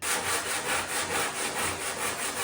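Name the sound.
sanding wood furniture finish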